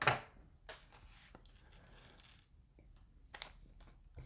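A small plastic bag of parts for a Star Wars X-Wing model kit being opened: faint crinkling and rustling with a few soft clicks and taps, close but quiet.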